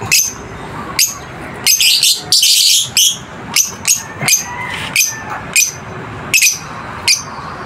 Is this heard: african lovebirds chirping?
yes